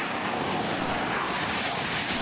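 An F/A-18 fighter jet with two General Electric turbofan engines roars past as a loud, steady, broadband rush of engine noise with no voices.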